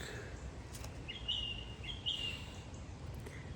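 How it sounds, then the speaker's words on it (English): Birdsong in a forest: a few faint, high chirping calls, two brief warbling phrases close together in the middle, set against a steady low rumble of background noise. "Birds singing."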